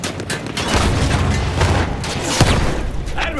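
Battlefield 1 gunshots crack repeatedly in a loud, dense battle mix, close shots and booms piling over a steady roar of combat, with no talk over them.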